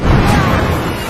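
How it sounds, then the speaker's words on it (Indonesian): A booby-trap blast in the war film Tears of the Sun erupts as a short, dense burst of broadband rumble and debris noise, loud and close. "hingga akhirnya terjadilah ledakan."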